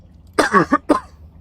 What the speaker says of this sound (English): coughing made me mess up